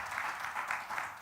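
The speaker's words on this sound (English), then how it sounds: "a big round of applause for our panelists, please" Audience applause for a panel at a public finance and sustainability event, a soft, steady patter of clapping from a room, fairly quiet and without voices.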